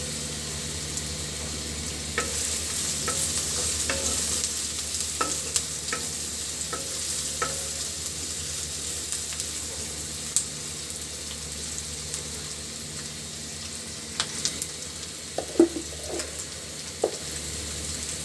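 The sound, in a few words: green chillies frying and stirred in a pan for fish curry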